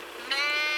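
A sheep bleating in a farm campsite field on the South West Coast Path, one short close call that swells partway through.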